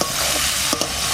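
Potatoes tipped into a frying pan of hot oil with dried red chilli, cumin and softened onion sizzle loudly and steadily, with a couple of quick scraping stirs near the end.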